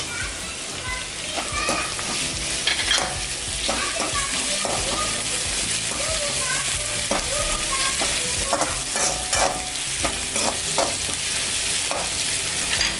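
Sautéed onions sizzling and frying in a pan with bay leaf, curry leaves and green chillies added, a steady close crackling hiss with occasional stirring scrapes throughout.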